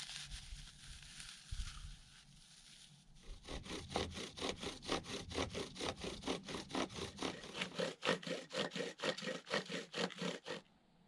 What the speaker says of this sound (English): trying to get a fire going with the bow drill